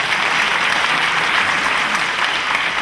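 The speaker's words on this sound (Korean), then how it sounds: "박수 한번 주시죠." Steady, loud applause from a live public-broadcast audience greeting an attendee who came from Gyeongju, a continuous dense clatter of many hands with no voices.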